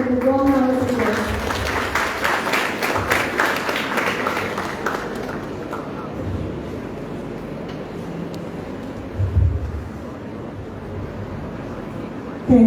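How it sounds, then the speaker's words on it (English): At an International Nurses Day celebration at a nursing institute, a hall audience gives a warm round of applause that rises loudly, then fades into room noise, with a voice at the start. "Please welcome Madam with a warm round of applause."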